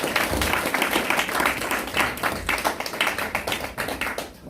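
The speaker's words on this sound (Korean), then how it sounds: "노수대 뜨거운 박수 부탁드립니다." An audience claps warmly for an elder taking the stage to speak at a church forum: dense, steady applause from many hands that carries on for several seconds before thinning out toward the end.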